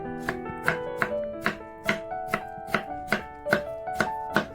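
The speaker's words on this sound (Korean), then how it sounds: "오이의 양끝을 썰고 반을 자르고 오이를 어슷썰게 해줍니다." A knife slices a cucumber diagonally on a cutting board in about ten crisp, evenly spaced chops. The strikes are close and clear, with no talking.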